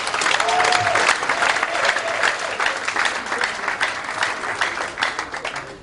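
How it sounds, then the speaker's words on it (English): A church anniversary congregation claps and cheers enthusiastically, dense applause that stays strong and gradually tapers slightly toward the end. "Please, a round of applause."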